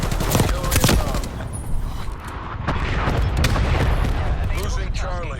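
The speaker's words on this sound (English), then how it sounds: "Artillery inbound." Heavy artillery impacts and booming explosions in Call of Duty: Black Ops Cold War, several loud blasts and rumbling debris mixed with scattered gunfire, with a voice talking over the chaos.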